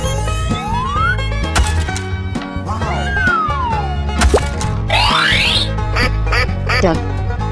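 Cartoonish duck quacks sound loudly in an animal guessing game, mixed with boings, sliding whistles and other playful effects over a busy music bed.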